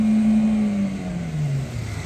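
A used car's engine revs while the car fails to gain speed. A loud, steady engine drone sits close to the microphone, and its pitch slides gradually downward across the two seconds.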